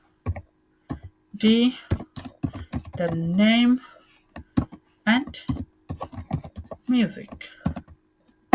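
Someone types a command into a computer's command line, with bursts of crisp keyboard clicks between and under a man's nearby speech.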